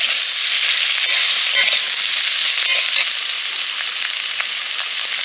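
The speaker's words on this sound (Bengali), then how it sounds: "বেগুন আলুটা অনেকটা ভাজা হয়ে গেছে এবার বেগুন দিয়ে দিলাম" Potatoes and eggplant fry in an open pan for a village-style spicy chorchori, giving a steady, loud, close crackling sizzle that holds evenly throughout with no voices.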